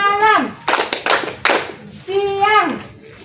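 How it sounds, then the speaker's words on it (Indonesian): Group clapping game at a community session: a voice chants a cue, then three sharp, loud bursts of hand claps from the group land in rhythm before the chanting voice returns. "Tepuk pagi, siang, tepuk malam"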